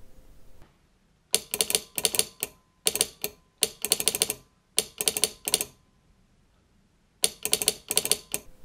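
A telegraph sounder, an electromagnet clicker, rattles off Morse code as bursts of rapid, sharp clicks separated by short silent gaps, close and crisp with no voices.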